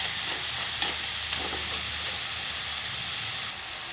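Sliced potato chips fry in hot oil with a steady, even sizzle, close and constant, broken by a single sharp crackle near the start.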